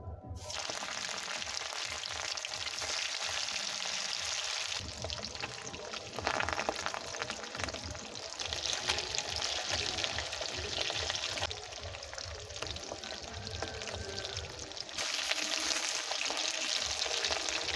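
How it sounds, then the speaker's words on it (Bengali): Small river fish (ram chela) sizzle and spit loudly in hot mustard oil in a wok, a dense, steady frying hiss that runs unbroken with no voices over it. "তেল গরম হয়ে গেছে, মাছগুলো দিয়ে দেব।"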